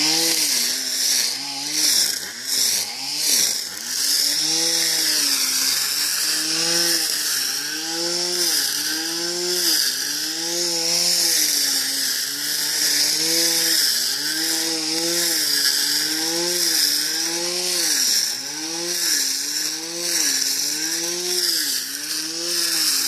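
A homemade brush cutter driven by an old blender motor runs steadily with a loud, high-pitched whine and a rhythmic wavering pulse throughout, with no talk over it.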